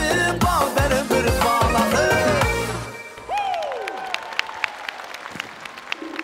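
Applause at a concert, with music ending and scattered claps continuing as a crowd claps in a large hall, the clapping fairly distant and thinning out with a few sharp individual claps.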